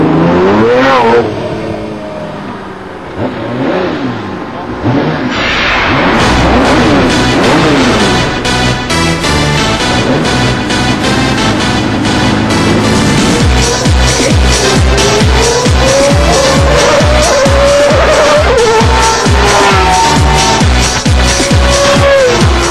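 Loud, close engines of a Ferrari F50 and a McLaren F1 roaring and revving hard as the cars accelerate, pitch climbing steadily through gear changes over a continuous high-speed run.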